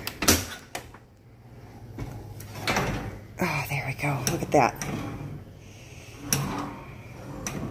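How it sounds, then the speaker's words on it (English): A repaired dishwasher door swings open and shut in a kitchen, giving several clunks and rattling knocks with some dish clatter, while a person talks briefly between them. "Alright, let's try out the door, see if it works."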